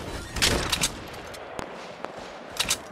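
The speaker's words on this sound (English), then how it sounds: "Somebody shooting." Gunfire in a Fortnite battle royale match crackles in short bursts of shots, a quick cluster early, a couple of isolated cracks, then another burst, moderately close.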